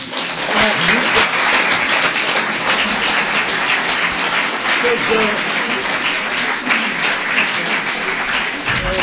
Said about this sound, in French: Je vous propose d'applaudir fortement.